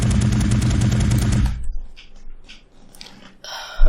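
Rapid automatic gunfire from an enemy NPC's weapon in an Unreal Engine game: a dense, loud burst of shots that cuts off abruptly, followed by quieter scattered game sounds and a sharp final hit.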